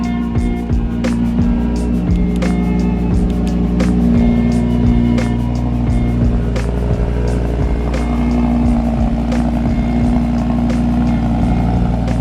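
A Lamborghini supercar engine drones loudly and close during highway driving in Mexico. The tone is steady and sustained, with shifting pitch as the car moves.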